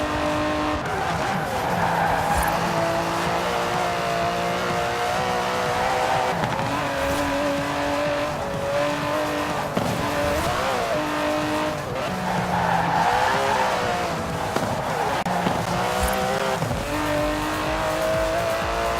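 An Aston Martin DB11 in the video game Forza Horizon 4 drives hard, its engine revving and shifting loudly and continuously with recurring tire squeals across the whole stretch.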